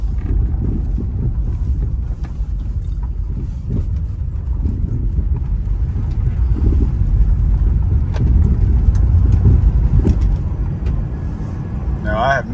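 A 1985 Mercedes 500SEC, a grey-market Euro-spec coupe, rolls over a gravel road with a steady low rumble of tyres on stones and road noise, plus faint knocks from worn struts or suspension, running continuously and fairly loud throughout.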